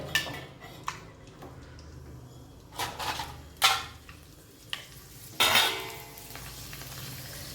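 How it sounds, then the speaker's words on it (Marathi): Sandge papad frying in hot oil, giving a soft steady sizzle broken by several louder bursts of bubbling and clinks from a utensil turning the pieces in the pan. "तर आता आपण प्रथम तळण काढूया"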